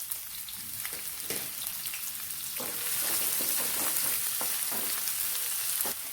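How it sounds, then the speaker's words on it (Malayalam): Medium onion sautéing in coconut oil in a pan, continuous close sizzle with scattered crackles and stirring scrapes that grow fuller partway through, no talk. "ഒരു മീഡിയം സൈസ് സവാള നമുക്കൊന്ന് വഴറ്റിയെടുക്കാം"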